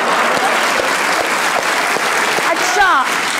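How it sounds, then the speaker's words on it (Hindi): Studio audience applauding on a Pakistani talk show, a dense continuous wash of clapping that fills the whole moment, with a brief whistle-like tone near the end. "माहिरा खान की भी तालियां होनी चाहिए।"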